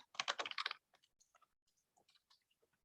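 Fast burst of keyboard typing, a quick cluster of close clicks at the start while a title is entered in a Google Drive document, then sparse, fainter key taps trailing off.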